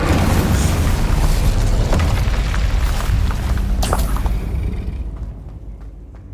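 Spell blasts in the Hogwarts Legacy video game, including Incendio, Stupefy, Confringo and Expelliarmus, form a dense, loud run of booming impacts and rumbling bursts that slowly fade toward the end.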